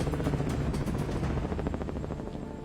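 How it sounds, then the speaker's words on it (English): A Sikorsky UH-60 Black Hawk helicopter loaded with troops lifting off, its rotor beating in a fast, loud, rhythmic thump that gradually softens, with a rumbling engine underneath. "In its critical test, the helicopter takes off, loaded with 14 Army personnel."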